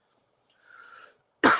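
A single sharp cough bursts out after a brief quiet breath or throat sound, loud and close.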